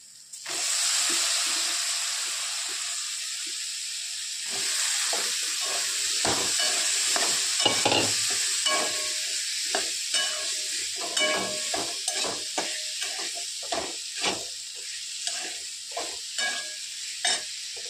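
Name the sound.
potatoes added to a pan and stir-fried for a Marathi dry vegetable dish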